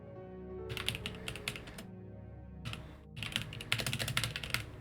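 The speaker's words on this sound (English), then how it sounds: "Man, your typing speed's amazing." Fast, busy clatter of typing on a computer keyboard comes in two bursts of rapid keystrokes with a short pause between them, close and alone.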